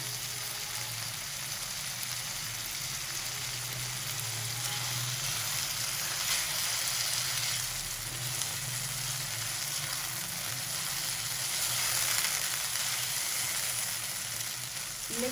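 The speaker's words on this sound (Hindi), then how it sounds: "अदरक लहसुन नमक के साथ 3 मिनट तक कीमा फ्राई करेंगे" Minced chicken frying with ginger, garlic and salt in a pan, giving a steady, soft, continuous sizzle throughout with no talk.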